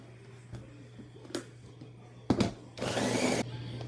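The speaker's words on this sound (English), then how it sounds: "I kind of want it to be kind of chunky, kind of like meat sauce, so I'm doing it in a food processor." A food processor chops marinara sauce with dehydrated tomatoes in a few short whirring bursts, the longest lasting under a second, separated by quieter handling noises.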